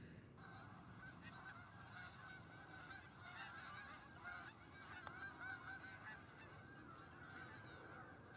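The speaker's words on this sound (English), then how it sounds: "So that right there was a mess of geese." A flock of wild geese honks during a waterfowl hunt outdoors, many overlapping calls sounding moderately distant and continuous for several seconds with no talk.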